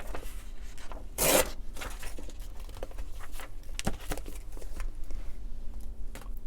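Blank paper pages are cut from a journal with a short, loud rasping cut near the start, then quieter scattered rustles, snips and paper handling continue at close range.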